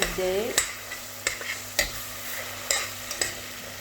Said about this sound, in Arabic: نزيدو مغرفة ثوم ونخليها تتقلب